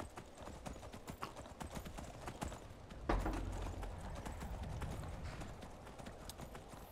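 Steady clip-clop of horse hooves in the video game Skyrim at a trotting rhythm, close and continuous, with a heavier thump partway through and low rumbling underneath.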